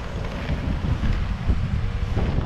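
Wind buffets the microphone of someone roller skating outdoors, a loud, continuous low rumbling roar with gusty swells and no speech.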